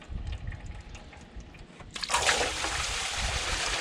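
Old water gushes out of the oil pan of a 1947 Ford Flathead engine that sat for 48 years, starting abruptly partway through as a steady splashing pour into a catch pan, close by.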